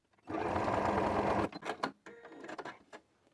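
A sewing machine runs a seam along the fabric margin, a dense close mechanical whir lasting about a second, then a series of short stop-start bursts of stitching.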